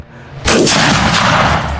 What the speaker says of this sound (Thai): เสียงกระสุนพุ่งจากแนวฆ่าศึกเข้าใส่กลุ่มเดช